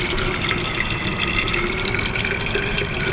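Water pours steadily into a nearly full water tank aboard a boat, a continuous close rushing fill with a faint rising pitch and no voices over it.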